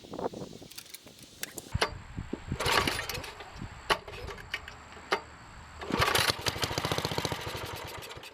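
A Kohler engine on a Wheel Horse 704 tractor, just repaired at the bearing plate and with an empty carburetor bowl, is pull-started in several rough, sputtering attempts, the last catching into a brief choppy run.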